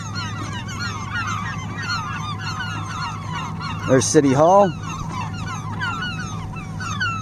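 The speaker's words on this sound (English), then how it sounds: "And lots of birds here." Geese on a river near Buffalo give one short burst of loud honks partway through. Steady chatter of other birds and a low paddling hum run underneath, and someone speaks briefly.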